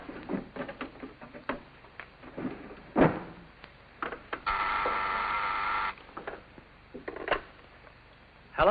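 A telephone being dialed in a 1950s sitcom scene: a run of sharp clicks and knocks, then a steady tone holding for over a second, followed by more scattered clicks, with no talking.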